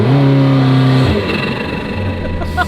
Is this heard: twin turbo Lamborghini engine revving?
yes